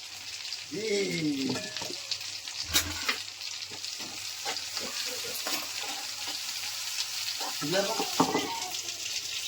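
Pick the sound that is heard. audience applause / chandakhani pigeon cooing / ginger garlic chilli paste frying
ginger garlic chilli paste frying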